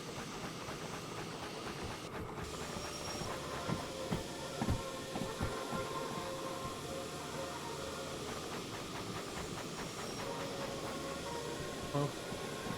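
A steam locomotive in the video game Derail Valley slides without brakes, a steady low rumble and hiss carrying faint rhythmic wheel clatter and a few soft thumps, moderately distant and continuous.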